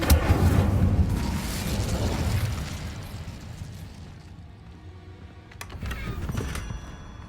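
Incendio fire spell cast in Hogwarts Legacy, heard as a loud whooshing burst of flame that trails off into a softer crackle, followed by a second, smaller flare near the end.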